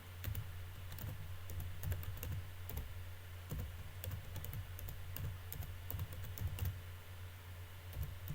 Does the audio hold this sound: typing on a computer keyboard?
yes